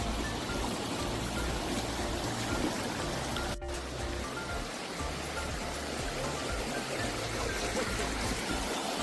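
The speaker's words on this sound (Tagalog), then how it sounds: "Sa lakas ng agos." Strong river current rushing at a hot spring, a steady broadband wash of flowing water filling the whole clip, loud and continuous with a brief dip partway through.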